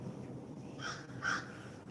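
Two crows caw outdoors, a pair of hoarse calls in quick succession, fairly faint and distant over a low background hum.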